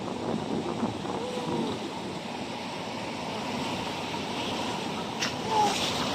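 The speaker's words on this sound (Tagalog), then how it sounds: "Ayan na yung alon." Sea waves wash in toward someone soaking in shallow water, making a steady broadband rush and swell that rises slightly near the end, with a faint voice briefly audible.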